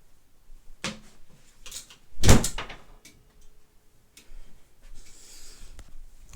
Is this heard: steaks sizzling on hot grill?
no